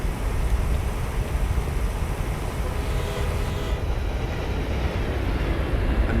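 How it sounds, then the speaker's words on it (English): A train passes in American Truck Simulator, a dense, continuous rolling rumble and clatter filling the scene at close range for several seconds. "there's lots of train sounds going on here."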